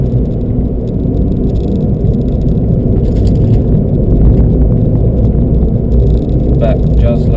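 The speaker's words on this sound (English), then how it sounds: "the Fiesta doesn't like going up hills" A Ford Fiesta climbing a hill on a track, heard from inside as a loud, constant low engine drone with rattles and road rumble, a voice talking over it throughout.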